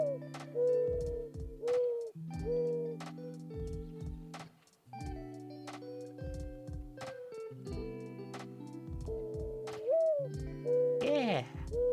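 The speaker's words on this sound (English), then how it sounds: "They make the soft coo-coo sound." Mourning dove cooing, a soft low repeated coo-coo call in several phrases with short pauses, clear and close against a quiet background, with a brief higher sound near the end.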